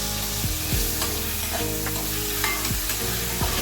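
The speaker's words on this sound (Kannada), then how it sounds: "ಸ್ವಲ್ಪ ದಪ್ಪಗೆ ಹೆಚ್ಚಿಟ್ಕೊಂಡಿರೋದು ಟೊಮೆಟೊನೂ ಹಾಕ್ತಾ ಇದ್ದೀನಿ" Chopped tomatoes sizzle steadily in a hot pan for raw papaya pulao, with a few distinct scraping stirs of a spoon against the pan standing out over the constant frying crackle; no voices.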